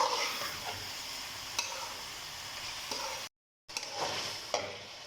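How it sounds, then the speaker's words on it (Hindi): Mutton frying in an onion and ginger-garlic masala for palak gosht, a loud, continuous sizzle with stirring scrapes, cut off by a brief silent gap before the frying resumes. "अब यहाँ पर हम गोश्त की प्याज और अदरक लहसुन के मसाले के अंदर ही थोड़ी देर बुनाई करेंगे"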